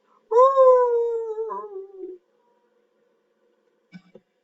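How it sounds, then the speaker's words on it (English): A hungry wolf howls once, a loud, long, falling wail close by that trails off after about two seconds, followed by silence and a brief faint sound near the end. "One day a wolf sat on the rock that was Sylvester and howled because he was hungry"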